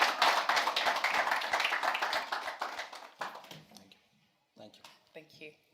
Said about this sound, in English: Let's all give him a huge round of applause.